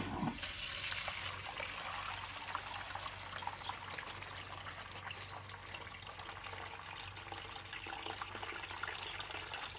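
A Parkside PHWW1000 A1 household water pump runs with a steady, loud flow of water at about 3.9 bar, a continuous rushing, trickling wash under a constant motor hum, heard alone.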